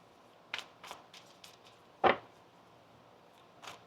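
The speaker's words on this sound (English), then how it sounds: "One more shuffle." Tarot cards shuffled quietly nearby in a few soft, scattered flicks and slides, one sharper snap near the middle, with long hush between them.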